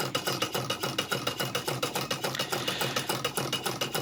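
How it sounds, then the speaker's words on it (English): A small DC motor spun up by turning a flywheel runs with a fast, even mechanical chatter, regular pulsing beats like a sewing machine, close and steady throughout with no voices. "as I rotate this flywheel, it should start to run the motor."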